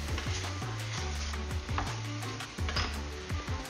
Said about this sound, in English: keep stirring our seafood mix.